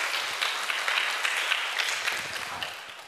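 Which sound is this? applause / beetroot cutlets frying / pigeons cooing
applause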